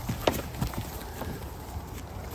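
Cows walking out through a farm gate, a few soft hoof steps close by on the ground, with faint background noise.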